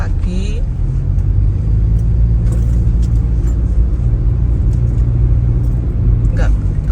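Morning street traffic on Jalan Ayani in Banjarmasin, with a continuous low rumble of passing cars and motorbikes, an occasional horn or brake squeak, and a person talking over it.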